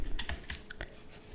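A computer keyboard clatters with quick, uneven key presses close by during a game of Shantae, roughly seven distinct clicks, with no one speaking.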